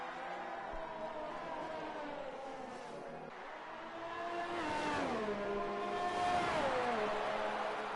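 F1 race car engines in a French Grand Prix racing video game, high whining tones rising and falling as the cars accelerate and shift, swelling louder in the second half with no talk.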